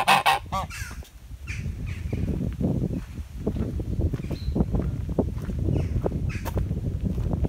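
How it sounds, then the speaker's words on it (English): Noisy geese honking loudly and repeatedly at a country centre near a castle, close by in a dense overlapping chorus, with occasional chickens and footsteps mixed in. "And some very noisy geese."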